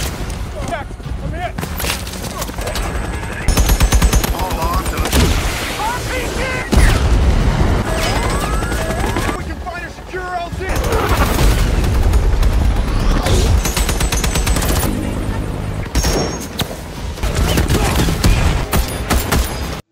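Dense gunfire from an Abu Sayyaf attack in a film, with rapid bursts, single shots and booms from a helicopter battle, loud and continuous, with someone narrating over it.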